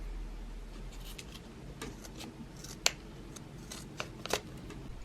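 Scissors snip the ends of silk fabric rose petals, a few quiet, sharp clicks and cuts spread over a soft background hiss, close by and alone.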